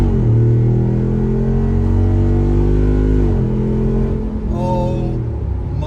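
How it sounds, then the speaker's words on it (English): A Jeep Wrangler Rubicon 392 V8 SUV launching hard off the line with a loud, close engine roar climbing through the revs, a brief dip at a gear change, then pulling on with a rising drone. "We could probably try an acceleration off the line over here to get onto this real highway"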